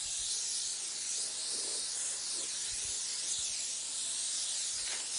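Airbrush spraying Snow White Pearl paint onto a Hummer, a steady close hiss of compressed air and paint mist holding evenly throughout with no talk.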